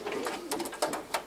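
Pigeons murmur in a loft with low, rolling coos and a couple of sharper flutter-like bursts, close and continuous over a brief moment with no talk.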